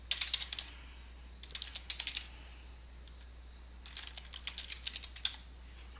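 Computer keyboard typing in quick clustered bursts with short pauses between, fairly close and clear with no talking, as someone types text into a name field while editing a page.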